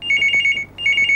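A telephone rings loud and close with two bursts of rapid bell trills separated by a short gap, with no voices over it.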